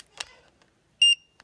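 A Scher-Khan Magicar 5 car alarm key fob gives a short, clear electronic beep after a faint click, in an otherwise quiet space.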